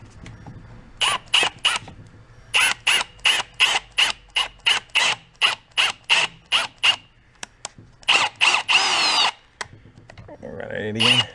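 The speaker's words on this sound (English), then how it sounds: "I'll go for a drill." A power drill whirs in a series of short, repeated bursts with pauses between, close and fairly loud, ending in a longer run, drilling on a worn-out dirt bike.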